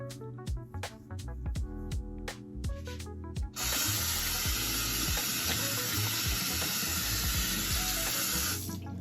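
Tap water running into a sink to wet a disposable cloth, starting after a few seconds of clatter and knocks and then flowing steadily and loudly until it shuts off near the end.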